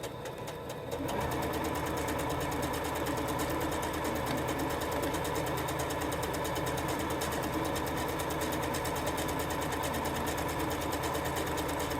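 Secondhand sewing machine bought from an online marketplace runs steadily at speed, a loud, continuous mechanical whir and rapid needle clatter that starts after a brief pause and carries on unbroken.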